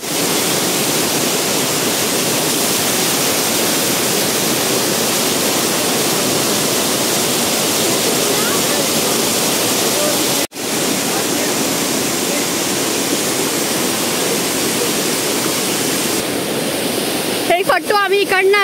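A hidden waterfall near Arjunkada in Kharghar roars as a loud, constant wash of falling water close by. The roar is broken by a brief dropout, and near the end a few faint voices can be heard over it.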